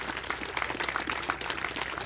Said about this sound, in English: How about a nice round of applause, Mr. Herbert Holmes.